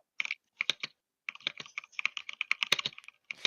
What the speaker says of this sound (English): the keyboard is white. And very loud.